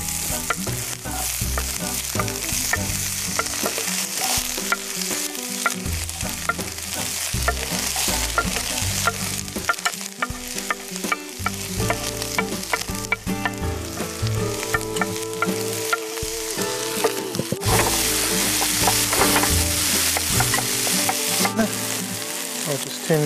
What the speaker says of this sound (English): These onions on to saute.